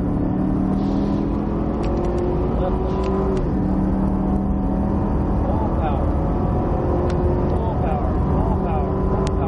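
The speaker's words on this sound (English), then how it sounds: "A little bit of power, full throttle." A Cadillac CTS-V engine drones steadily and loudly close by at full throttle, its pitch rising and falling slightly as the throttle changes, with no pauses.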